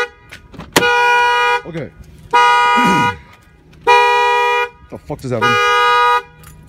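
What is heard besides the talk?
car alarm going off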